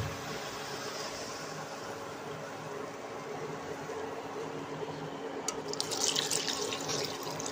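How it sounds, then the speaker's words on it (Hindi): Water poured into a pan while cooking matar nimona, a steady, fairly quiet stream and splash that swells slightly toward the end, with no talking. "और इसके बाद अब इसमें हम 2 कटोरी पानी डाल देंगे।"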